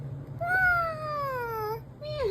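A one-year-old child imitates a cat's meow with one drawn-out, falling vocal meow followed by a short second call, close and clear.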